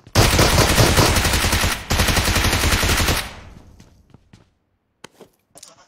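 Rapid, dense automatic gunfire in the PUBG Mobile game rattles loudly for about three seconds. It then stops abruptly, leaving only a few scattered faint clicks and taps.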